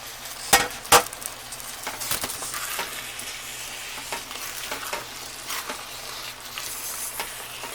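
Cooked meat tipped into a pot of jambalaya and stirred, two sharp clinks of metal at the start, then soft sizzling and scraping stirs at moderate volume.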